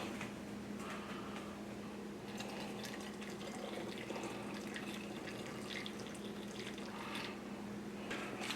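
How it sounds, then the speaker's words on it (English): Homemade fermented hot sauce pours into a fresh hot bottle, giving a steady, soft liquid trickle with a low background hum and a few brighter splashy moments. "So our last step is just bottling."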